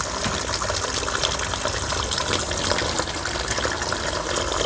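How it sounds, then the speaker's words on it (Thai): Water gushes steadily and loudly throughout as banana slices are rinsed in salted water, a continuous close rush with no talking. "เสร็จแล้วนะคะเราล้างน้ำใส่เกลือลงไปนิดนึงนะคะ"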